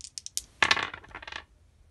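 Dice rolled during a Bird vs. Fruit board game: a few light clicks, then a short rattling clatter close by on a tabletop, with no talking.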